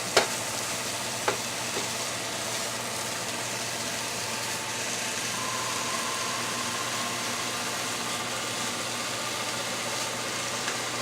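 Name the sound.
ground turkey browning in a pan, stirred with a spatula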